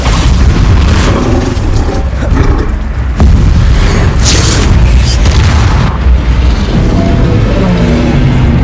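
A Bombarda spell explosion erupts in the game Hogwarts Legacy, a loud continuous rumbling blast with booming bursts and debris crackle sustained throughout.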